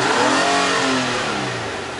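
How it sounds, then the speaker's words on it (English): A car engine revs up hard as the throttle is pressed, a loud rising roar with clear harmonic sweeps that then eases off and settles, with no talking over it. "So again, I'll give it some gas."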